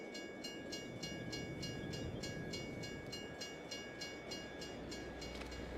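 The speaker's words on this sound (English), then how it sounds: "Is that the train? Yep," A freight train rolls past in Farming Simulator 22, a loud, continuous rumble with a steady, rhythmic clatter of wheels over rail joints and a sustained tonal whine, running the whole time with no talk.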